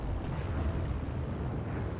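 A bomb explosion in the video game Heroes & Generals: a low, rumbling roar crackles continuously, dense and booming, with no voices.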